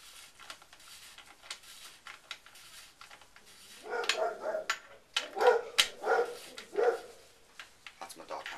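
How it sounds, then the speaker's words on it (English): A dog barks in short bursts, then in a louder run of yips and barks, at mid distance in a home workshop where a bicycle bottom bracket is being worked on, with faint background noise between the barks. "That's my dog having a smack attack."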